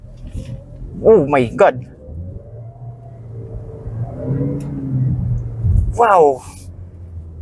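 A 2025 BYD Seal 5 DM-i Dynamic accelerates hard in sport mode, its low engine and road rumble heard from inside the cabin beneath a person's excited exclamations.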